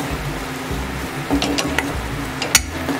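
A spoon stirring coriander powder, turmeric and Malvani masala as they roast in hot oil in a pan, a soft continuous sizzle with a few light scrapes and taps against the metal.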